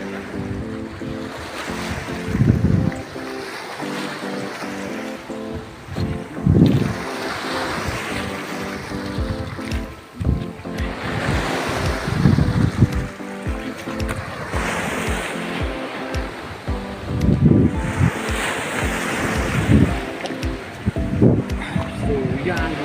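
Sea waves rolling onto the shore at Oslob, Cebu, with repeated surges and washing hiss every few seconds, along with wind buffeting and muffled voices in the background.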